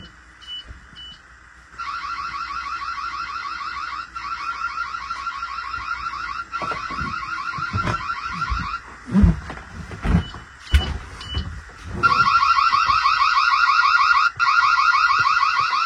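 A home security alarm siren sounds in a demo, steady electronic tones starting after a quiet moment, pausing midway amid some bumps and handling noise, then resuming loud and continuous.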